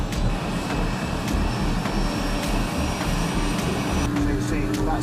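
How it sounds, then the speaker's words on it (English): A helicopter engine starting up in the cockpit, a steady loud turbine whine and rumble with a faint pulsing beat, continuous throughout with no talk over it. "flick the engine switch on"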